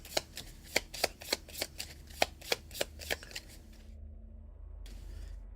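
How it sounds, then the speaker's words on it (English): A deck of cards being shuffled for a live Alien: Fate of the Nostromo board game, a rapid run of crisp riffling snaps close up, followed by softer handling and quiet room tone. "All right, I assume we shuffle then."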